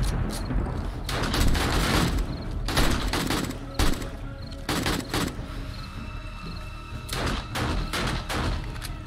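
AK rifle gunfire in 7 Days to Die rattles out in rapid, loud bursts with brief pauses between volleys, heavy thumping shots piling up close by across the whole stretch.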